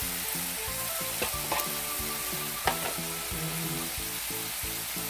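Squid and mushrooms sizzle and fry in a hot pan while pancit canton is cooked, a steady close hiss with a few brief clinks and stirring knocks throughout, no voices.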